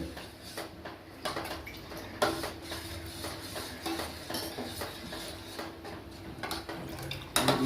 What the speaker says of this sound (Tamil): இதை வந்து அடி பிடிக்காமல் நம்ம தண்ணி போல் கிண்டணும்